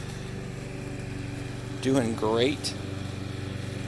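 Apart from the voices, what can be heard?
lawn mower running in the background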